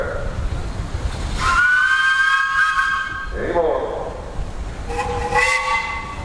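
A steam whistle at an outdoor steam threshers' show in Wauseon, Ohio gives two long, loud harmonic blasts, the second shorter and lower, with crowd noise and a voice speaking between them.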